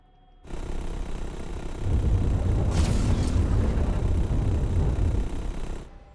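An asteroid explodes in a space mining game, a sudden deep rumbling boom that swells and sustains with a gritty roar, a bright crackling burst in the middle, then cuts off into silence.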